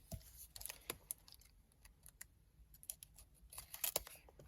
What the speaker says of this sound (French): Je vais juste couper pour vous montrer.